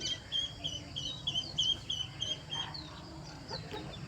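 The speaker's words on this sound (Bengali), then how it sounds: "আমার ছোট্ট মুরগির বাচ্চাটা হাঁসগুলোকে ঠুকাচ্ছে" Backyard chickens cluck steadily alongside ducks while a small chick pecks at them, with soft overlapping bird calls over a low, continuous background hum.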